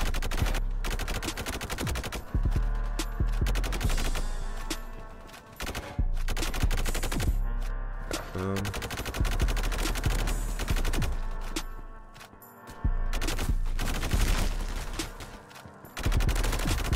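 Honey Badger gun fired in the Roblox game Energy Assault: loud, close bursts of rapid automatic fire, repeated in several long strings separated by short pauses.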